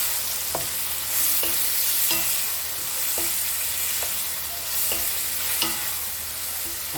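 Spice paste for cabbage ghonto is stir-fried in a pan with a little water, a steady sizzle punctuated by rhythmic spatula scrapes about once a second.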